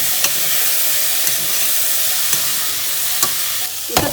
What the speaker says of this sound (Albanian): Do t'i lëm edhe për pak minuta perimet që të skuqen të gjalpit.